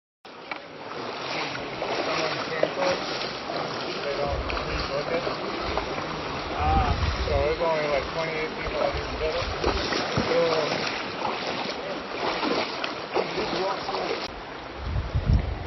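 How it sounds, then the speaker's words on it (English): Hikers wading through river water in the Narrows of Zion National Park, with steady sloshing and splashing from several people moving through the stream, continuous and fairly close, with voices talking throughout. "That was the sound of people walking through the Narrows."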